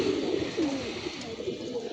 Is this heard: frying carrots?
no